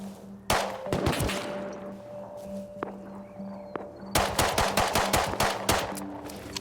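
AK rifle fire in a survival game: scattered single shots early, then a rapid string of sharp, loud automatic bursts near the end over a low ambient hum.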